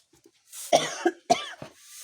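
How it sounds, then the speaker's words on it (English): Several harsh coughs in quick succession, close by, with a couple of small throat sounds before them. "The chili is making me cough."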